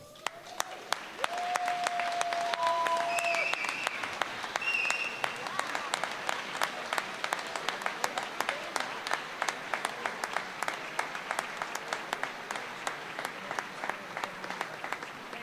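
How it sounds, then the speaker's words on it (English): Audience at a school board awards and recognition ceremony gives a sustained round of applause, dense steady clapping from a crowd that fills the room and slowly thins toward the end, with faint murmuring voices underneath. "I think this deserves another ovation."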